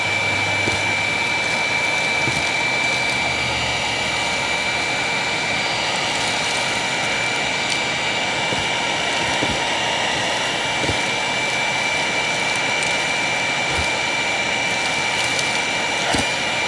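A purple self-propelled Hoover Windtunnel Plus upright vacuum roars steadily and loudly at close range while picking up plaster debris from a big mess, with a constant high whine and occasional rattles and clicks of debris being sucked in.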